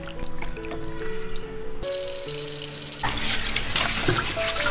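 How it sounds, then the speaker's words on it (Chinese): Tap water runs steadily into a sink as Chinese medicinal herbs are rinsed during cooking, a continuous close splashing that grows louder and rougher midway, with faint tonal music underneath. "中间我们先给它清洗一下。"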